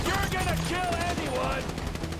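Sniper gunfire in Grand Theft Auto V rings out through a dense, noisy firefight, with a voice talking over the shots throughout.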